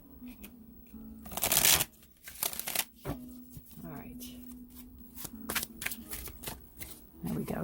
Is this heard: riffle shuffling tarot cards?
yes